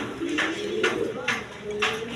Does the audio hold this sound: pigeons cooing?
yes